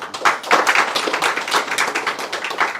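A small audience at a talk gives a brief burst of fairly close, loud, rapid hand claps lasting under three seconds.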